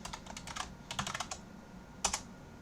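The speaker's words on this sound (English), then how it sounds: "and type in my password" Keys on a computer keyboard are tapped in quick, close clusters of soft clicks with short pauses, finishing with a slightly heavier keystroke, all alone in a quiet room.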